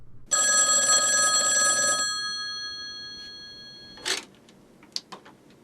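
A telephone bell rings loudly in one sustained burst of under two seconds, then fades, followed by a few clicks and knocks as the handset is picked up, with no talking.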